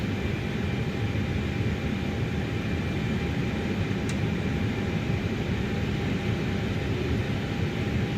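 An Airbus airliner taxiing off the runway in Microsoft Flight Simulator 2024, giving a constant loud broadband jet-engine roar with a faint steady whine, unbroken and without talk.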